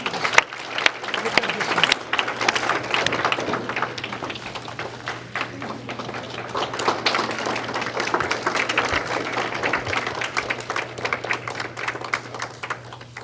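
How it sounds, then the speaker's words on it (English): Steady crowd applause at a Guru Purnima celebration, dense clapping throughout, a low constant hum underneath, sustained at an even level with no talking. "please let's give her a round of applause"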